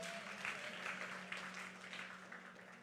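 Faint, continuous applause from a church congregation during a Filipino-language sermon, a soft steady patter of many hands clapping at a distance over a low room hum.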